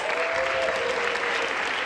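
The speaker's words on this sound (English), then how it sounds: "Let's give our wonderful youth and this program a big round of applause" An audience at a youth benefit concert gives a big round of applause, a steady, full wash of clapping with a faint tone running underneath.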